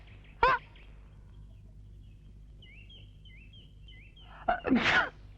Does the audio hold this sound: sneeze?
yes